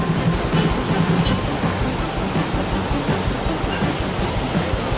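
A river flows through a high mountain trek route at about 4380 metres, a steady loud broadband rush of water filling the whole stretch without pause.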